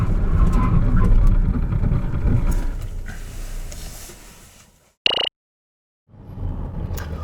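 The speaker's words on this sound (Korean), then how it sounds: "이코녹스의 제동 성능을 한번 알아볼까요?" A 2020 Chevrolet Equinox 1.6 diesel braking hard in a test, with loud road and engine rumble fading as the car slows to a stop, then a short sharp squeak, silence and renewed rumble.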